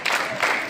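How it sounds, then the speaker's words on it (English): Schoolchildren lined up at a morning assembly clap their hands together in a steady rhythm, producing a few sharp, loud bursts of crowd clapping with no other sound in between. "All of you clap your hands. In a rhythm."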